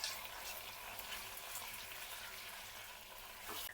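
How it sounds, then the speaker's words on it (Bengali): Ginger, green chili and garlic paste fry in a pan for a crab curry, a soft, steady sizzle with faint stirring, quiet and continuous. "এখন নেড়েচেড়ে ভেজে নেব যেন এর কাঁচা সেন্টটা চলে যায়।"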